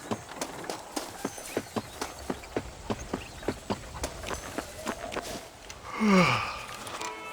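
Horse hooves clip-clopping in a steady walking rhythm in the Red Dead Redemption video game, about a dozen even strikes, then a short snort or breath near the end.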